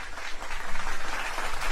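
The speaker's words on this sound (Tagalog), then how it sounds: "Palakpakan na may kasamang mga hiyawan" A studio audience applauds in a short, steady burst of clapping, loud and continuous, at a radio broadcast.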